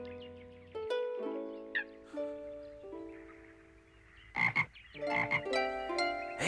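Frog croaks in a Frisian children's nature setting, repeated calls mixed with tonal music, a loud burst of croaking near the middle and more scattered calls toward the end.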